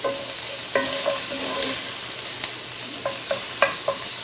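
Garlic frying in a pan while being stirred for Cajun stuffed chicken: a steady bright sizzle runs throughout, broken by several sharp clinks and scrapes of the utensil against the pan, close and loud with no talk.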